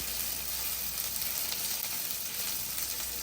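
Sausage frying in hot oil in a pan, a steady close crackle and hiss with fine popping, constant and alone.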